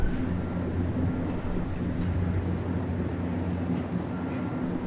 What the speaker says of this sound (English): What we're really after today is a continuous welded rail train that has just arrived and been delivered for the MBTA